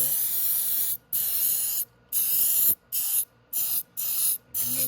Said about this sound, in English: I'm just gonna get ready to put some spray all through